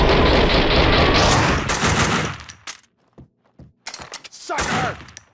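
Max Payne 2 gunfire: a loud, sustained burst of rapid automatic fire, then scattered single shots and thuds, with a final loud blast.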